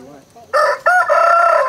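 A rooster perched in a mango tree crows loud and close after a quiet start, its call breaking briefly before stretching into a long, sustained cry.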